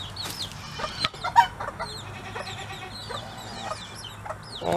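Chickens in a farm pen in springtime, a mother hen with chicks, give a busy stream of near, lively clucks and high chirps that overlap throughout.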